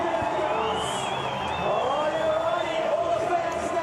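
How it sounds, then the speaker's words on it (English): A crowd at a Red Bull X Fighters freestyle motocross event in Pretoria cheers and whoops steadily through a rider's run, a dense, continuous roar at moderate distance. "Crowd seems to like Javier's run."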